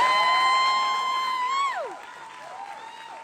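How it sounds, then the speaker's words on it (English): A crowd applauding and cheering at a National Signing Day event, a burst of clapping that fades out partway through, with whistles and shouts over it. "So give him a round of applause."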